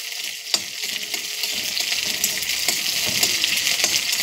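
Chopped onions and black cumin sizzle in a hot pan for a fish curry, a steady close frying hiss with a few sharp clinks of a stirring utensil.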